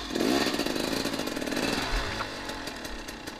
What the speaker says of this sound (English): I'm gonna start the bike and let the bike walk itself out